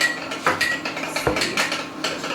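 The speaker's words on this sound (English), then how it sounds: "You need to mix the melted butter and Hellmann's mayonnaise." A spoon stirs melted butter into Hellmann's mayonnaise, giving close, light clinks and scrapes in an uneven rhythm over a soft background hiss.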